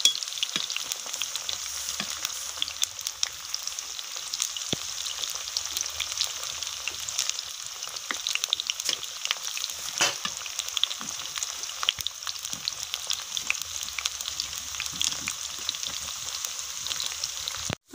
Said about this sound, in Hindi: ऐसे ही तलाऊंगी मैं पूरी कटहल को, और तला तला के मैं सब्जी बनाऊंगी।